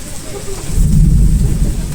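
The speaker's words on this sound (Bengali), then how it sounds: "গরমের পরে বৃষ্টির স্নিগ্ধতায় শীতল আবহাওয়া বয়ে যাচ্ছে।" Rain falls steadily while a low thunder rumble swells in after a moment and rolls on, loud and close, with no one talking.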